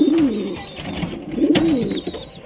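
A pigeon coos close by in two rolling, throaty phrases a little over a second apart, with nothing else around it.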